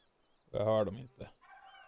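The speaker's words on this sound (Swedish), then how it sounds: "Jag hör däremot en kalkonjävel." A wild turkey calls in the hunting game The Hunter: Call of the Wild, a short loud burst of gobbling followed by a brief second note and a fainter trailing call, clear against a quiet background.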